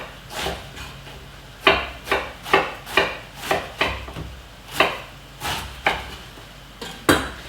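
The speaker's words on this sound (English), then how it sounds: "Chop it into little thin slices." Washed cabbage is sliced thinly with a knife on a board, a steady series of about a dozen close, crisp chops in an even rhythm with no talking.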